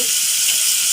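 An egg snack fries in a pan while it is stirred, giving a loud, steady, close sizzle that holds evenly throughout.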